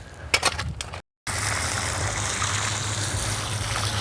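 Water poured to soak the soil around a newly planted banana tree, a steady close gushing flow; a few splashy bursts come first, then a brief silent cut, then an even continuous pour.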